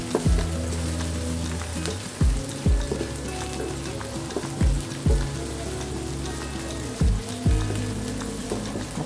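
Crushed garlic cloves sizzle steadily in hot oil, a dense broadband frying hiss with a few louder crackling bursts and a low background hum, no voices.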